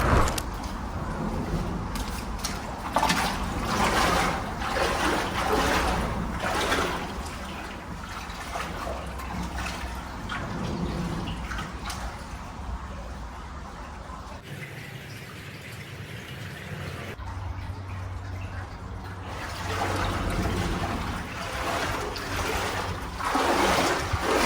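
Creek water flows steadily in a continuous broad wash with trickling and splashing detail. It keeps going for the whole stretch with a brief dip in the middle, heard alone without talk.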